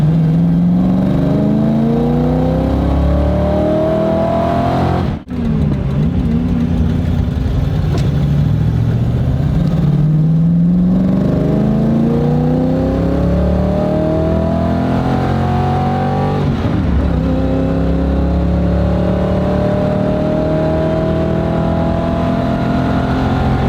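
A carb-swapped 1995 Mustang engine on a below-freezing shakedown drive runs loud and close from inside the car. It climbs in repeated rising rev sweeps through the gears, with a sharp click or bump partway through.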